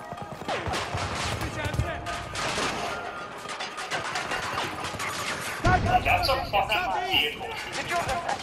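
Gunfire rattles in Battlefield 2042 as many players shoot, with scattered bursts and rapid volleys of varied loudness, some near and some distant, under someone talking.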